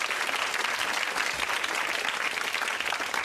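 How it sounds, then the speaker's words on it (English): A studio audience on the 1992 game show Blockbusters claps in dense, even applause that stays full and steady throughout, with no talking over it. "Give her another round of applause"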